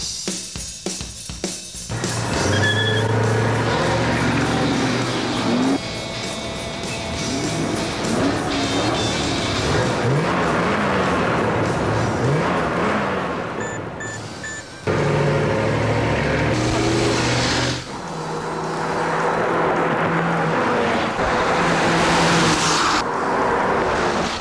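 A 2003 Mercury Marauder holds a sustained burnout, its engine roaring steadily and loud for many seconds with tire noise, briefly easing off midway before building again, with no talking.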